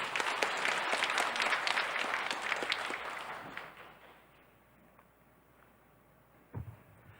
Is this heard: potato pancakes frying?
no